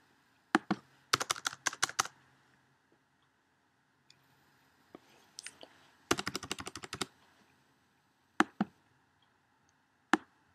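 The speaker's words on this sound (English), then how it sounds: "Just start typing out these codes here into these boxes." Rapid clicking of computer keystrokes as codes are typed into form boxes, arriving in several quick bursts separated by short pauses, close and clear with no talk.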